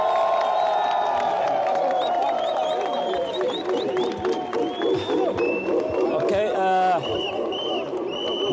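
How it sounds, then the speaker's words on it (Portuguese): Crowd at an outdoor public gathering cheering and whooping with clapping, loud continuous roar of voices, whistles and shouts, someone speaking over the din. "Uma salva de palmas bem forte para todos vocês aí."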